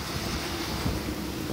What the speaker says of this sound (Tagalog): Tinatamaan tayo ng hangin na malakas. Talagang malakas ang hangin.